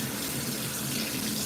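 Steady, close rush of lukewarm tap water running continuously while a sensitive poodle is bathed and rinsed of soap, a full broadband splash with no pauses.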